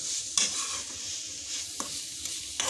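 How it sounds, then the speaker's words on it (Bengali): Vegetable momo filling stirred in a hot pan with lemon juice added, a steady sizzle and fry underneath and a few sharp scrapes of the spoon against the pan, close and alone. "এখন সুন্দর করে আবার এটাকে নেড়ে চেড়ে নিচ্ছি।"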